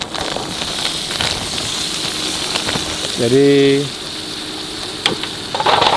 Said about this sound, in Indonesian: minyak ini tentu saja nggak akan kita buang. Kita sudah bawa sosis kanselir, dan kita akan goreng sosis ini